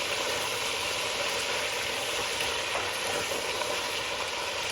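Food browning in a hot pan, a steady broadband sizzle and crackle that runs evenly throughout at moderate level with no talk over it.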